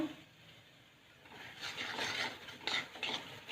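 Spoon scraping and stirring gram flour into roasted turnip in a pan, soft at first then building into busier scraping and clinking against the metal, no talk.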